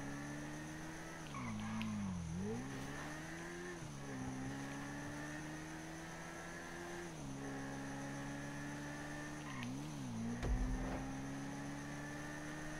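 Car racing in GTA V Online on PS4, with a sustained engine drone rising and dipping through gear changes, a few tire skids and one brief thump near the end, no voices.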